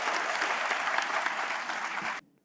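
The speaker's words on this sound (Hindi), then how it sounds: "उसके लिए भी उनका ज़ोरदार तालियों से उनका अभिनंदन।" A conference crowd claps loudly and steadily for about two seconds, then the applause cuts off abruptly into quiet.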